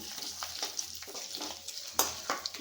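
Turmeric being stirred into ginger garlic paste frying in oil in a pan, with soft scraping strokes at an uneven rhythm over a steady low sizzle, close and fairly quiet.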